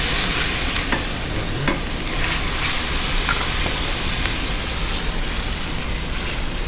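Roasted cherry tomatoes hit a hot frying pan and sizzle loudly and continuously, with occasional stirring scrapes and pops close to the mic.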